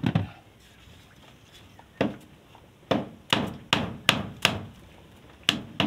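Sharp hammer blows on nails, about eight strikes in irregular bursts with short pauses between, close and loud.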